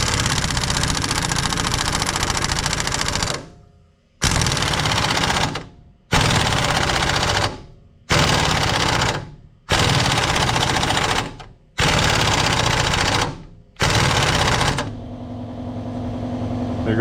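An Aircat pneumatic impact wrench runs in reverse in loud, close bursts, six or seven hammering rattles of about a second and a half each, separated by brief gaps. An air compressor hum takes over at the end.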